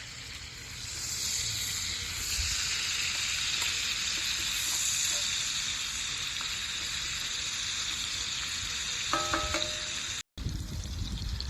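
Bacon and onions fry in a pan with a steady, fairly loud hissing sizzle that runs throughout, broken by a brief clatter and a short cut before it resumes.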